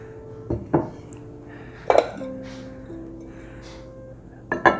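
Plain white ceramic dishes handled and set down, giving several close clinks and knocks with ringing tones between quiet pauses, and no talk.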